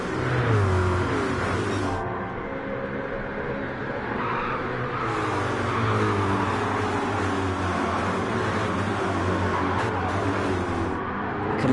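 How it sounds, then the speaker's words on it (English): NASCAR GT race cars scream through the penultimate corner of a circuit, engines loud and overlapping as they pass, with revs rising and falling across the whole stretch. "Listen to the noise of those cars going through that penultimate corner"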